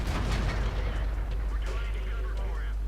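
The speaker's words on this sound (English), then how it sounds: "I get the chance to fire a few shells into each of the targets" An STB 1 tank's cannon fires shells in World of Tanks, heavy booming blasts over a deep, constant low rumble throughout.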